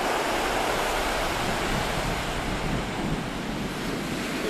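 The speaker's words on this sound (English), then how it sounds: "Nice lot of waves coming in today." Breaking waves roll onto the beach at Port Elliot, with rocks at the shoreline and a strong swell coming in. The surf is a steady, loud, close wash of broadband roar with no pause, and wind buffets the microphone.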